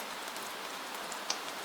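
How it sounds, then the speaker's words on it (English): Gentle rain falls at night in Venice, a soft, steady patter of drops on stone. One slightly brighter drip lands near the end, and no one speaks. "Rain gathers on the edges of the stones."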